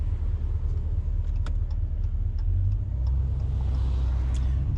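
Dodge Challenger ScatPack cruising slowly through city streets, a steady low engine rumble droning throughout with a slight swell near the end, no talking.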